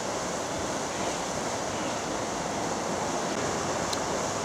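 The River Lee flows beneath a bridge near the old mill at Lemsford, a continuous broad rushing wash of water heard steadily and fairly close.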